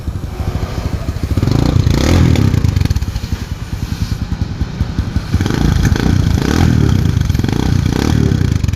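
Motorcycle fitted with a stainless chicken pipe exhaust with an apido tip, revving loudly and continuously up close, with a throaty rumble that swells and falls in repeated throttle blips.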